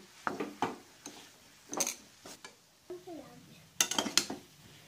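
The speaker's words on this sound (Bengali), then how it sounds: "আমার হালুয়াটা হতে প্রায় 30 মিনিট ধরে আমি নেড়ে চলেছি" Chana dal halwa being stirred in a pan, with intermittent scraping and clinking bursts of a spoon against metal, moderately close, in separate strokes with short pauses between.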